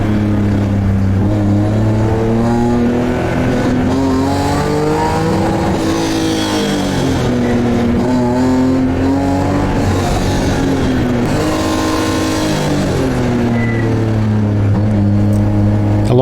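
A BMW rally car on a test day drives hard, its loud, close engine note rising and falling steadily through gear changes, with no talk over it.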